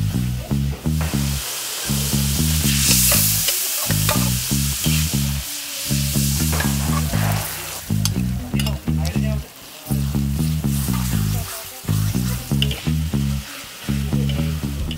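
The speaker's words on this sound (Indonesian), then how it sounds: "bisa langsung ditumis yo" Spice paste sizzles loudly in a hot pan while it is stir-fried, a steady close crackle broken by rapid rhythmic scraping strokes of a spatula that pause now and then, with no talk.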